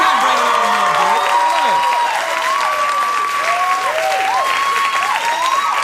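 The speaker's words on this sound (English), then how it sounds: "If they clap long enough, I won't have to." A late-night talk show studio audience applauds and cheers loudly and continuously, with whoops and bright whistled tones rising over the steady clapping.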